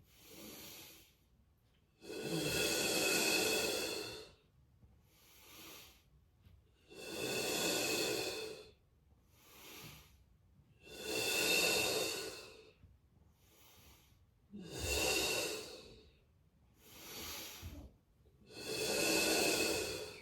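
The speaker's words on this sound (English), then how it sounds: "So I'm going to take 2 breaths to go up, 3 to go down." Slow, deep breathing during a foam roller exercise: about eight long, hissing breaths, close and steady, with quiet gaps between them and no talking.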